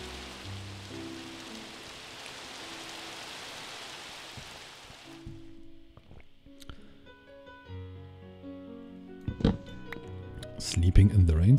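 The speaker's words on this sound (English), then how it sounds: "Now we're sleeping in the rain." Rain falls in Minecraft as a steady, soft hiss for the first half, then stops, leaving quieter game sounds that grow busier toward the end.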